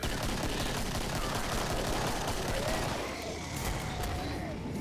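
Dense, continuous cannon fire in Killing Floor roars steadily throughout, loud and busy, with no clear pauses.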